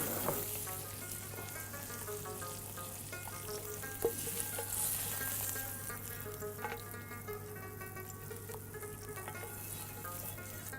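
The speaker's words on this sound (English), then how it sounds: "So how long do you sear this for?" Cheese searing in a hot pan gives a steady, close sizzle that runs without a break for about ten seconds, with occasional faint clicks and no talking.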